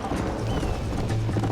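Horse hooves clip-clopping in Red Dead Redemption, a steady rhythmic patter of hoofbeats under a dense game soundscape, with a faint whinny-like tone.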